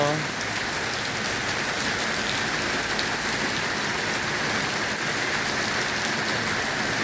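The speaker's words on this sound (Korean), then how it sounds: "아 비가 많이 내린다" Heavy rain falls in a dense, steady hiss that stays even throughout and fills the space close around. There are no voices and no other sounds.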